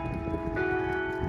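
A clock tower bell on an old Wichita, Kansas building rings out clearly, a single resonant strike that swells and sustains with a long metallic hum against faint street noise.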